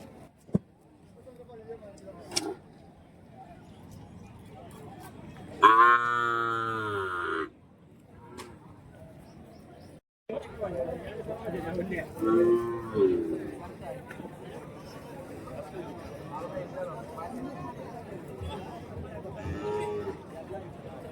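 At the Kundarapalli cattle market, a calf gives one clear drawn-out moo among people chatting, with crowd murmur and occasional grunts in the background.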